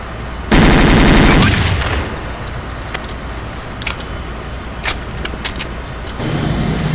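Automatic gunfire from a gun in the video game Counter-Strike Condition Zero: a loud sustained burst near the start, then scattered sharp single shots and a final burst, with a faint metallic ring trailing after.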